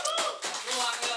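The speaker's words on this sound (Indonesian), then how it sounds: "Tepuk tangan dulu bentar." A small group claps hands during a talk show conversation, a brief scattered patter of claps over about a second, fairly faint.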